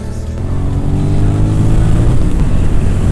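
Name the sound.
2002 Suzuki SV650 motorcycle being ridden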